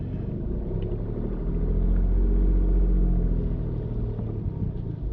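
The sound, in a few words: car reversing between parked cars during driving practice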